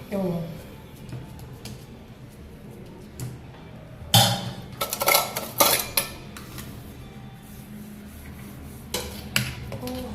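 A small bowl spreads sticky gond pak, a winter sweet, across a pan, with clanks and scrapes of metal bunched in short bursts, while people talk in the background.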